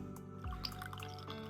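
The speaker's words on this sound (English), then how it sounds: "Hikari poured a packet of instant coffee and some hot water into a cup." Hot water poured into a cup of instant coffee in a video game, a short liquid splash and drip heard over a steady background of gentle music.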